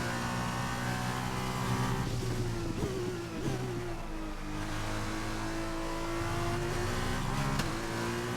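F2 race car engine at the Bahrain GP in F1 2021, a steady, loud, high-pitched drone with small dips as the revs shift and no talking over it.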